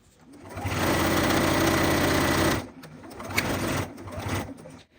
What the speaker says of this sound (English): I'm going to stitch all the way around the outside.